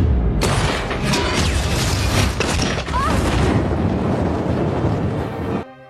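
Aircraft fuel igniting in a dramatic explosion: a loud, deep, sustained roaring blast that fills about five seconds before cutting off abruptly.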